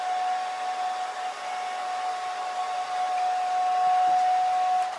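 A hair dryer blows steadily over drying watercolour paint of an alpine snow scene, a constant whirring hiss with a thin steady whine, close and uninterrupted.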